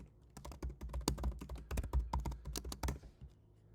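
Fingers type code on a computer keyboard in a quick, close burst of crisp clicks and clacks, with the keystrokes bunched unevenly and no other sound, ending in a brief pause.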